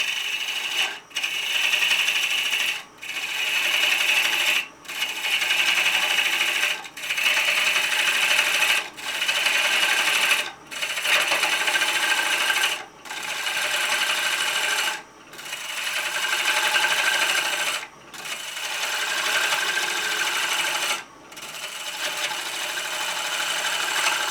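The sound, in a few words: chisel cutting wood on a lathe, woodturning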